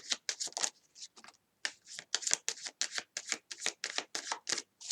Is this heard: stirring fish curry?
no